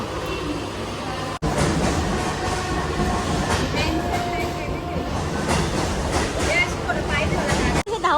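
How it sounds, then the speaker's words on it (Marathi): A train moves along the track with a loud, continuous rumble and wheel clatter heard from close by, with a brief break near the start and faint voices in the background. "आता मी ट्रेन पकडलेली आहे ट्रेन अशी खाली आहे बघा"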